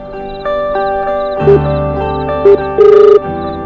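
A telephone rings loudly and close by with repeated electronic tonal bursts, the tones stepping and pulsing in a ringtone pattern, the last burst fluttering rapidly, with no one talking.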